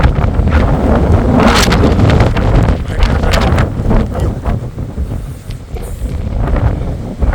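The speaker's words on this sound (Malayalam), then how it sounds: "സേല പാസ് ഭയങ്കര കാറ്റുണ്ട്, ഒരു രക്ഷയില്ല കേട്ടോ" Heavy mountain wind at Sela Pass, Arunachal Pradesh, roaring and thumping against the microphone without pause, loud and close, with gusts swelling and easing.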